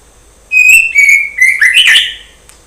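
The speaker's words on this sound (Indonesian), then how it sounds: "ada burung yang bunyi" A bird calls loudly and close, a quick series of bright whistled chirps sliding up and down, then silence.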